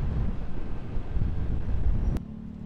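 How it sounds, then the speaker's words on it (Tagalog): Steady low rumble of road traffic around a Vespa Sprint S150 scooter on a road in Lubao, Pampanga, continuous and fairly loud before cutting off abruptly near the end. "Traffic talaga lagi dito."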